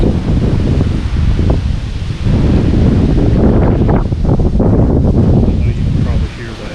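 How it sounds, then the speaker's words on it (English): Strong wind gusts buffet a trail camera mounted on a tree during a November hunt, a loud, sustained roaring rush with rustling leaves that swells and dips over several seconds, close to the microphone. "Here comes another big gust."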